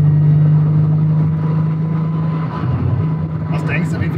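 A turbocharged VR6 Volkswagen Golf drones on the move, its steady low engine hum loud inside the cabin while people talk over it.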